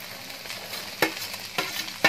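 Corn tossed in a hot pan for crispy corn chilli, with a steady frying sizzle broken by three sharp spatula scrapes against the metal.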